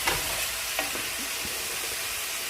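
Onion sizzles softly in a cold mix of oil and vegetable oil, with a quiet, steady frying hiss and a couple of faint stirring taps.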